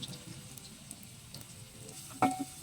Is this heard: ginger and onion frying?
yes